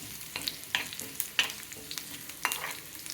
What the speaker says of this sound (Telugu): అట్లానే ఎండుమిర్చి, కరివేపాకు కూడా బాగా వేగుతుంది.